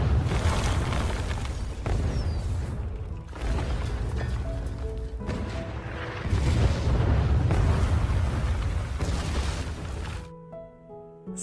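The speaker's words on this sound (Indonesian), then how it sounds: "Letnan Gordon menyampaikan bahwa artileri mereka juga pasti membalas serangan tersebut" Artillery shelling in a World War I trench war film, heard as continuous loud rumbling booms and blasts that fill the scene and then cut off abruptly near the end.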